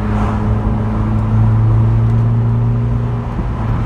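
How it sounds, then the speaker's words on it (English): A newly bought car is driven, its engine giving a steady low hum and drone from inside the cabin, loud and continuous, with a slight rise in pitch as it pulls along. "this is a little bit of a sneak peek of me driving the new car for the channel"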